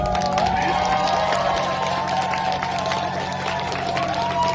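Festival audience at an outdoor lakeside-path festival closing ceremony in Hoengseong, clapping and cheering continuously and loudly throughout, with a crowd murmur underneath.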